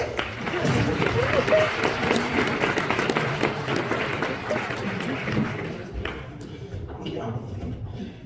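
Audience applause at a magician's show, a dense burst of clapping that is loud at first and then thins out and fades toward the end, with voices mixed in.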